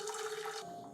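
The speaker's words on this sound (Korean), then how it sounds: "이렇게 찜기에다가 물 넣으시고요" Water pours into a steamer pot in a home kitchen, a short close splashing fill that stops abruptly near the end.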